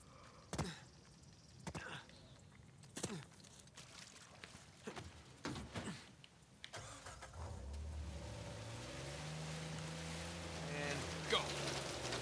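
A car engine in Uncharted 4 starting up and then running with a low droning rumble that builds and strains, after several sharp thuds, moderately loud with a voice talking over it.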